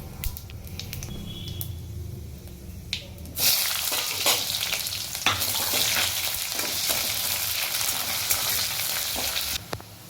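Chopped onion dropped into hot oil tempered with panch phoron, the frying jumping from a quieter sizzle to a loud, steady crackle and hiss that continues with occasional spatters and stirring.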